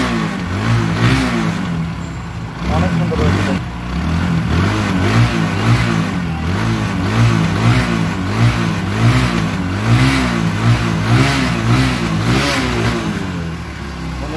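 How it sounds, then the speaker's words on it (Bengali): An Apache RTR 150cc motorcycle engine revs repeatedly in a steady rhythmic pulse of throttle blips, loud and close throughout, with a brief dip near the start. "এখন দেখা যাচ্ছে গাড়ির সাউন্ড"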